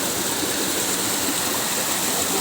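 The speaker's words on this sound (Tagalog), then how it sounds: "Nasa taas ang talon." Waterfall pouring steadily at an outdoor site, a constant dense rushing roar that is close and loud throughout, with no talking.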